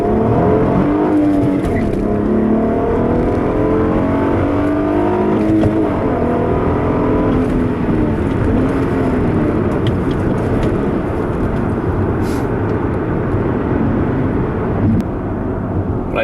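A 2010 Acura TL with its big 3.7 V6 accelerates hard. The loud engine note climbs through rising sweeps, dips briefly at the shifts, and then keeps pulling. No one speaks.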